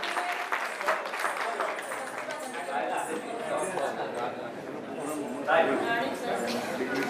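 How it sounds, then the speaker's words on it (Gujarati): An audience at a student honouring ceremony of the Vankar Seva Sangh in Chandkheda applauds Ayush, a steady wash of clapping mixed with chatter and voices, moderately distant. "આયુષજી માટે ફરીથી જોરદાર તાળીઓ થઈ ગયા સાહેબ"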